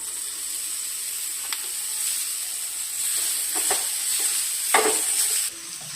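Nutmeg pickle stirred in a hot pan: a steady sizzle and hiss runs throughout, with soft scraping strokes of the spoon at irregular moments, close and moderately loud.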